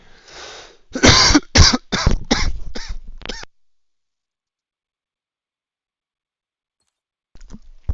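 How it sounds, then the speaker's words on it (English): A short burst of repeated coughs, six or seven in quick succession, close and loud, followed by silence and a faint cough at the end. "I'll cough like a bunch before I sneeze"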